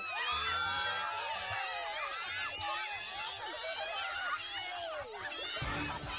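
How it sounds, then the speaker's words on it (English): A crowd of children screams and shrieks joyfully in the Ciel Nosurge DX video game, a dense, continuous swirl of overlapping high voices that stays loud throughout and breaks off near the end. "the joyful sounds of screaming children"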